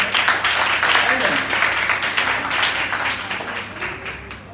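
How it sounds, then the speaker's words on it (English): Clapping from delegates in a Model UN committee session, a dense round of hand claps that is loud at first and gradually tapers, with faint voices underneath. "Clapping."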